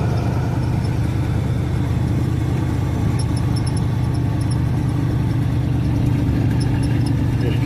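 A car engine runs steadily while the car is driven in fourth gear at about 25 miles an hour, giving a constant mid-pitched drone with a slight whine and no pauses.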